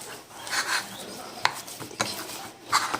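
Milk powder gulab jamun dough kneaded by hand in a bowl, soft rubbing and squishing with a few light taps against the bowl, close and moderate, in uneven strokes.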